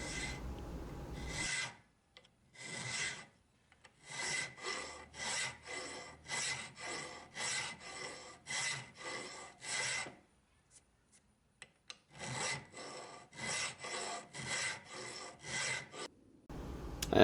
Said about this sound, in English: then I went in there with a triangle file to make them pointy